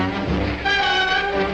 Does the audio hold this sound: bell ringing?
no